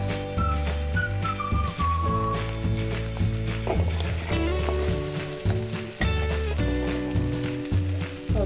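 Fried chickpea dal and paneer sizzle in a pan of spiced oil for a chickpea gravy, a steady frying hiss that stays under prominent background music throughout.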